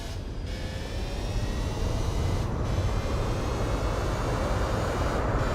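Race car engine from Gran Turismo 4, a heavy continuous roaring drone with rumbling low end, loud and steady throughout with slight swells, with no voices.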